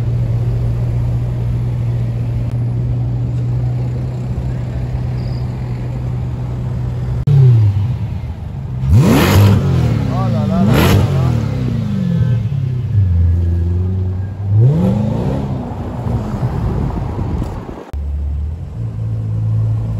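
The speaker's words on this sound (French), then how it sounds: "Sympa le petit démarrage de la 812." A Ferrari 812 supercar on a Paris street at night idles with a deep rumble, then revs hard and accelerates away, its loud engine note climbing and dropping through several gear changes before settling back to a low burble.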